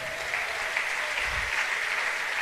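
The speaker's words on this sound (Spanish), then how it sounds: "Démosle palmas al Señor." A church congregation claps together in steady, dense applause that fills the room evenly from start to finish, with no voices standing out.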